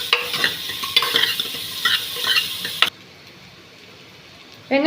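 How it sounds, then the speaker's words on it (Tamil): Onions frying and being stirred in a pan for country-chicken biryani, with dense crackling sizzle and repeated scraping stirs for about three seconds, then a sudden near-silence before a voice starts speaking at the very end. "பிரியாணிக்கு மெயினாக நம்ம வெங்காயம் நல்லா வதங்கணும்"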